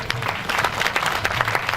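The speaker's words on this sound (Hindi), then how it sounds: "एक बार इनके सम्मान में भी ताली बजा दो" Audience at a comedic poetry gathering (kavi sammelan) at a temple in Dewas gives a short burst of applause, brisk and fairly close, lasting under two seconds.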